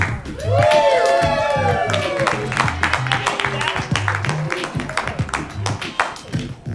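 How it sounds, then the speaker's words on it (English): A comedy club crowd on a Thursday night breaks into loud cheering and whoops that settle into sustained, dense clapping, with a voice over the noise near the start. "Give yourselves a round of applause for coming out on a Thursday night."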